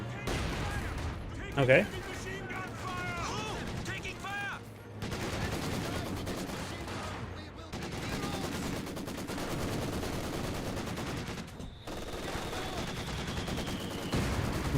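Maxim machine gun and other gunfire in a Company of Heroes 2 battle, a steady wash of bursts and shots with a brief louder crack early on, under continuous voice-over commentary.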